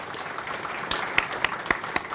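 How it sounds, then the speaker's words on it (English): Audience applause at a small business awards luncheon, a dense sustained patter of clapping with a few sharper, louder claps standing out near the end. "Let's give them all, again, a big round of applause"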